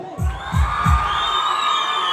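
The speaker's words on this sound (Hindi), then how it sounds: "जोरदार तालियां बजाएं" Crowd in a hall at a village devta fair in Kumarsen cheers loudly with shouts and whistles after three deep low thuds, the roar holding steady to the end.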